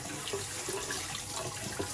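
Water runs from a faucet onto a shaving brush in a sink, a steady, faint splashing stream heard alone.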